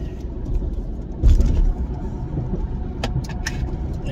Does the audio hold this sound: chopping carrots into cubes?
no